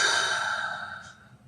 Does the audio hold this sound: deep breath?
yes